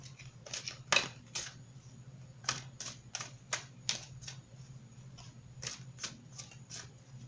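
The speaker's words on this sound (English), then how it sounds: "Let's go ahead and pull some obstacle cards here." Tarot cards being drawn and shuffled from a deck, a run of short, crisp snapping and flicking sounds in uneven bursts, close and fairly quiet over a low steady hum.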